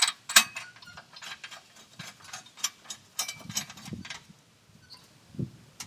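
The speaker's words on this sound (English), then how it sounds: "then we're just going to tighten it down with our torque wrench" A torque wrench tightens the blade nut on a Cub Cadet riding lawn mower, with the deck left on. Quick, uneven runs of mechanical ratcheting clicks are heard close up, then they fade toward the end.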